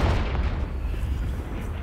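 A fiery Confringo spell blast in a PS5 video game, heard as a loud, sustained, rumbling boom that fills the whole moment with a dense roar and no clear talking.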